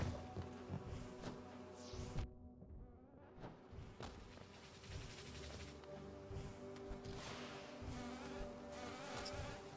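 A swarm of little bees in Hollow Knight buzzes steadily and densely, with scattered soft thumps and a brief dip near the start before the drone resumes.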